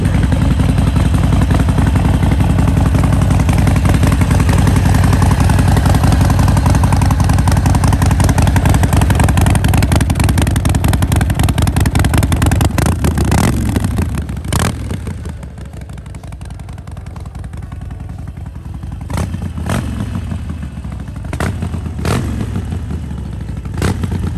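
A Harley-Davidson Forty-Eight fitted with new iridium spark plugs runs loud and close at a lumpy idle, then the engine cuts out, leaving a few sharp clicks and clanks.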